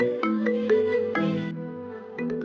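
A phone rings for an incoming call with a repeating melodic ringtone, steady and clear on its own with no voices.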